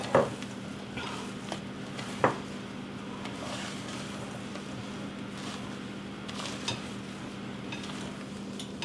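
Cake batter with folded-in egg whites being gently stirred for a pineapple upside-down cake: soft, faint squishing and scraping strokes with a few light clinks of utensil against bowl over a low steady hum.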